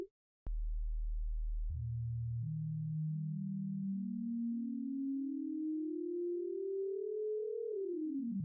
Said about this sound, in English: Get those kind of smooth sine wave tones out of there.